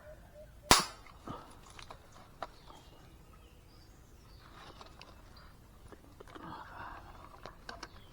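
One sharp gunshot cracks early, followed by faint rustling and scattered small clicks in the background.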